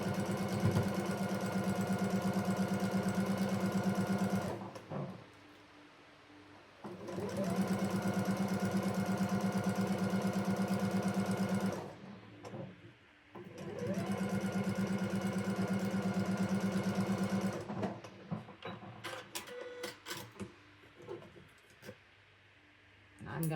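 A sewing machine stitches a quilt block seam for a Slea Head quilt-along in three long, steady runs of whirring motor and needle, each separated by a short pause, then ends in scattered clicks and handling noises.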